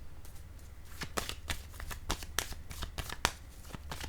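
Tarot cards are handled and laid down on a table, giving a quiet series of crisp, close slaps and shuffles at an irregular rhythm without any talk.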